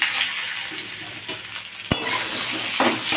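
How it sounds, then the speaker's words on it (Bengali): Split jujube plums are stirred in a pan for a Bengali plum pickle, a soft continuous sizzle with occasional close scrapes and one sharp utensil knock against the pan. "এবার এইগুলোকে আমি এতে ঢেলে দিলাম,"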